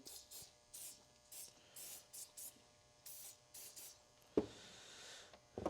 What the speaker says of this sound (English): So I might just give that guy a good spritz. Give this one two.